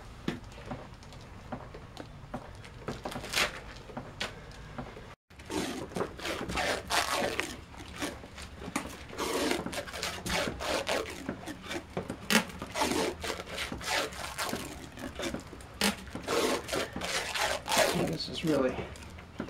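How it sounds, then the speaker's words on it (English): Stretch wrap crinkles and rubs as it is pulled over a wet carbon fiber layup reinforcing a mortar: close, irregular plastic rustling and stretching with brief breaks, under someone talking. "I think it's time for the stretch wrap."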